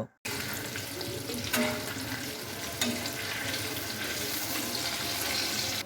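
Raw mango pickle being stirred in hot oil, a steady broadband hiss of frying with a few scraping spoon strokes, close and continuous after a brief silent start, with no talk.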